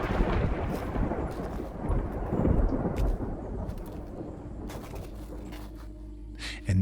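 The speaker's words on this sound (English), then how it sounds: "Another thunderclap hits." Rolling thunder from a thunderstorm rumbles low and heavy through the first half, then fades under steady rain-like hiss, with no voices.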